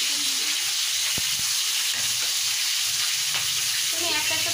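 Prawns frying one by one in hot oil, a dense continuous close sizzle with a couple of sharp pops, no talk.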